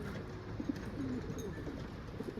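Pigeons cooing nearby in short soft throaty phrases, a couple of low coos rising over a steady outdoor background hum.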